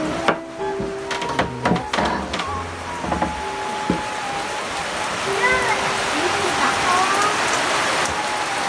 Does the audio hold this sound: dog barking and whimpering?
no